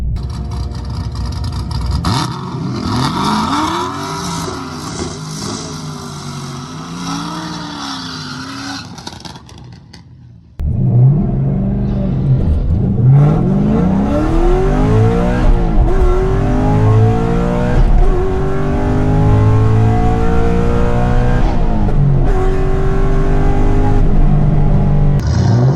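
A twin-turbo Camaro drag race car fitted with a new velocity stack and running about 13 pounds of boost launches down the strip, its loud engine climbing through repeated rising gear sweeps, with a brief quiet gap before a harsher, louder stretch of revving.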